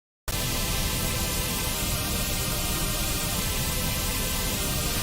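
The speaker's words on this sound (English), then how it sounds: "This will also, for example, work on pink noise if we go over here." Pink noise run through a color bass synth plugin, heard as a steady dense hiss with faint pitched harmonic bands inside it, starting abruptly and holding at a constant loud level.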